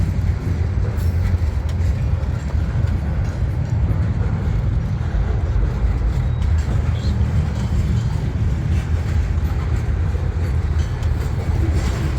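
An outbound manifest freight train rolls past in West Colton, a loud, unbroken low roar of engines and rolling wagons holding steady the whole time, close by, with no talking.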